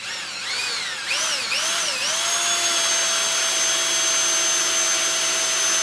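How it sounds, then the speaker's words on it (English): A power drill fitted to lift a mower deck whirs steadily and close, pitch sliding up and down in a few quick surges before settling into a constant high whine, with no talking. "I just have a drill on here for right now"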